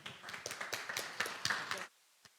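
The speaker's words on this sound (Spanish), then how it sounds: "Un gran aplauso, por favor." A small audience at the close of a panel on local governments claps, scattered individual hand claps forming brief, fairly quiet applause that stops abruptly, followed by a single late clap.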